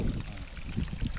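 Spring water gushes from a farm pipe tapped into a hillside spring, a close, steady, splashing pour with a rough, churning texture and no talking.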